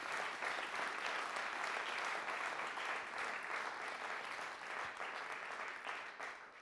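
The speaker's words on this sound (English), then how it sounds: "Let's applaud Secretary Castro for that." Audience applause for Secretary Castro at a New York City HOPE Count kickoff event, a sustained, even patter of many hands heard from a distance, tapering slightly at the end.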